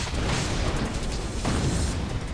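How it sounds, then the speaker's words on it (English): A crate blows up in the Marvel: Ultimate Alliance 2 video game, giving a dense, continuous blast of noise that rolls on for about two seconds with a second burst near the midpoint. "how can you just resist blowing up all these crates?"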